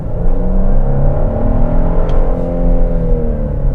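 A 3.5-liter twin-turbo V6 pulls hard under acceleration, a loud continuous engine drone with harmonics that climb steadily as revs build, close and steady throughout with no talk.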